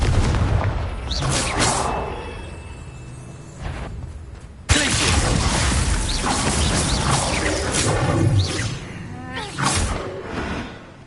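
A Confringo fire blast spell bursts in Hogwarts Legacy, a loud booming explosion that cuts in sharply midway, followed by a roaring, rumbling wash of game noise and creature-like cries throughout.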